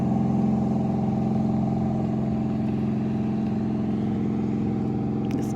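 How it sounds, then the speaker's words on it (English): A motorboat towing a water skier passes on a lake near Beaver Campground in Arkansas, giving a steady, moderately distant engine drone that holds evenly throughout, with no talking. "boat just went by with a water skier on it."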